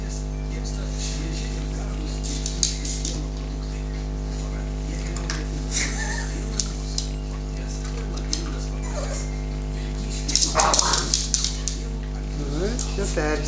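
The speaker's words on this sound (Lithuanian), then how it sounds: "Liūdna nebus su tokiom šunytėm." Dogs whimper and give small yips close by over a steady low hum, with scattered scratching and patter and a short louder flurry near the end.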